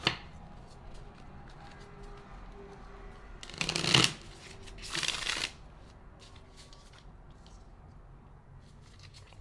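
Tarot cards are shuffled during a pick-a-card reading, two short crisp riffling bursts a second apart, close and fairly soft against a quiet room.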